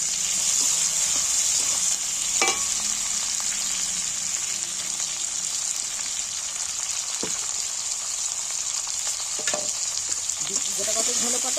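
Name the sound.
onions and chopped tomatoes frying in a pan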